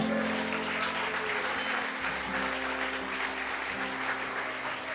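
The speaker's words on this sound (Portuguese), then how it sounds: "Você pode aplaudir ao Senhor Jesus." A church congregation applauds during a service, a continuous wash of clapping over a low sustained organ or keyboard tone.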